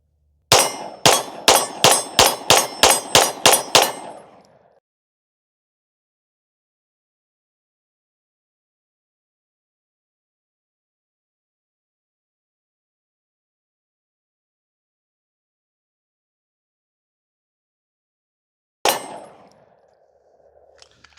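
Sig P211 pistol fitted with a 9-pound Atlas recoil spring and no compensator, a rapid string of about ten loud, sharp shots in steady rhythm, then long silence before one more shot with a ringing tail.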